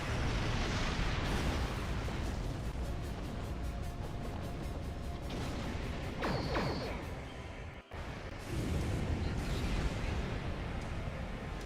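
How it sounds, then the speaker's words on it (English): Sustained weapon fire tearing into a liberated Borg ship in a Star Trek video game, a loud continuous rumble of blasts and impacts with a brief drop near the middle before the barrage resumes. "Shooting right through the liberated Borg ship."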